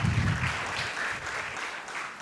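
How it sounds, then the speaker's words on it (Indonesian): A church congregation claps for God during an Indonesian online worship service, a short burst of dense applause that is loudest at first and then thins out. "Yang setuju berikan tepuk tangan meriah buat Tuhan kita."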